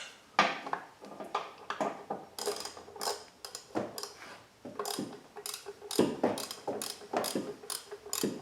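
A ratchet tightens the three bolts of the lower plastic cover on a 2001 Ford Focus 2.0 SPI SOHC engine, giving close, quiet bursts of rapid clicking separated by short pauses.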